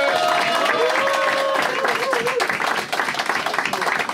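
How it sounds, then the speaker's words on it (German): Loud, sustained applause from a crowd welcoming a new coach at a football event, dense clapping filling the whole stretch with a few whistles and voices mixed in, easing slightly toward the end. "er hat einen riesen Applaus verdient"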